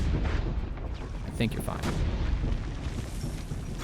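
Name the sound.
cannons blowing up in Assassin's Creed Brotherhood video game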